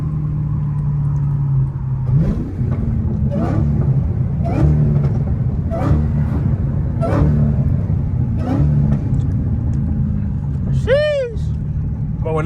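A Dodge Challenger Hellcat Redeye with an 820 hp engine rumbles at close range with a steady low exhaust drone and repeated rev pulses, while people talk over it.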